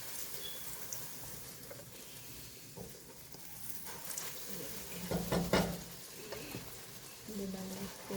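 Puri, Indian fried bread, sizzling in hot oil, a soft bubbling fry that swells into a louder burst of crackling midway, then settles back to a low hiss.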